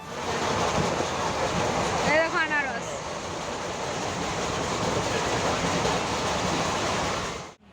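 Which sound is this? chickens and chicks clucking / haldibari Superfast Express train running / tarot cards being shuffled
haldibari Superfast Express train running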